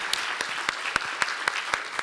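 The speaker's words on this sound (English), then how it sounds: "let's give them a round of applause" Sparse applause at a book event, roughly eight separate claps spaced evenly over about two seconds, crisp and fairly near, with a faint room hiss between them.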